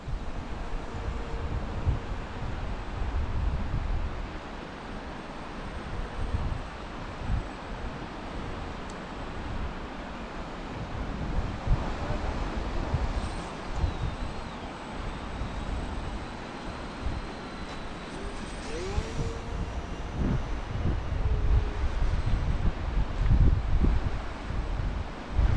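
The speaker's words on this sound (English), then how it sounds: "Oh, it's getting too windy." Gusty wind blows across the microphone in low rumbling buffets at Squamish, with a continuous rushing background that resembles distant surf.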